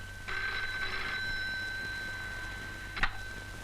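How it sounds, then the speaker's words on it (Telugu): A telephone in a scene from the Telugu film Amavasya Chandrudu rings with one long, continuous trilling burst over low background hum, ending in a brief click. "నాన్సీ, నీకు ఫోను."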